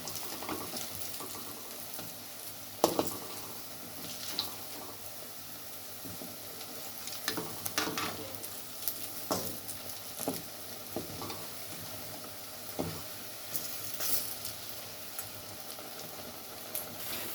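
Medu vada, a South Indian lentil fritter, sizzles steadily in hot oil while being stirred and turned over, with soft scraping and a few brief clinks breaking through the continuous frying hiss, close by and with no talking.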